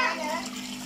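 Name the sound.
water being poured into a pot for cooking rice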